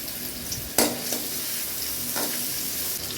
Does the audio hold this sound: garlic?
yes